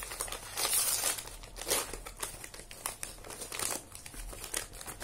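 Paper wrapper of Merba dark chocolate and hazelnut cookies being opened, close and loud crinkling and rustling in uneven bursts with a few tearing sounds.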